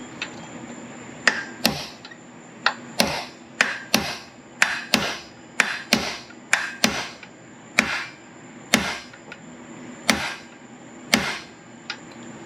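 A hammer drives a punch to seat a stubborn part on a Sears Roper mini bike, giving about twenty sharp metallic strikes at an uneven, steady pace, close and loud.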